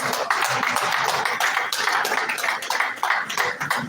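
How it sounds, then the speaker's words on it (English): A dense, steady crowd applause fills the hall at a leadership retreat for accountants, many hands clapping at once, loud and continuous with no talk over it. "a round of applause"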